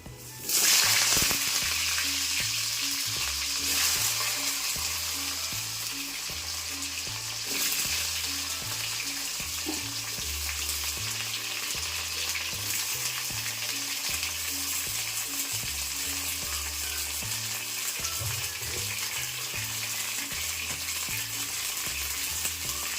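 Teasel gourds frying in hot oil seasoned with black cumin, giving a loud, steady, close sizzle that bursts up at the start and continues unbroken, with faint stirring knocks underneath.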